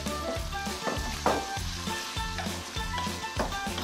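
Mushrooms sizzle in a pan as part of a carbonara, a steady frying hiss with some stirring over a low, tonal background layer, held at an even level throughout.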